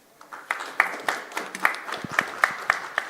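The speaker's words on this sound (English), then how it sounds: "have a big round of applause for Mr." Audience applause fills a conference hall at a food processing conclave, a moderate crowd clapping in uneven bursts with sharp individual claps standing out, steady and fairly close.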